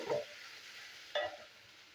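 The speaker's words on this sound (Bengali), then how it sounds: "আর একটু কষাবো।" Potatoes stirred and fried in a pan with turmeric and salt for potato korma, two short scraping strokes about a second apart over a faint sizzle, close but quiet.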